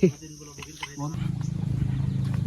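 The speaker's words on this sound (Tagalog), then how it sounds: "Pukyutan pala, oh." Bees from a wild hive drone steadily and close by in a pulsing buzz that builds after a brief voice and some thumps at the start.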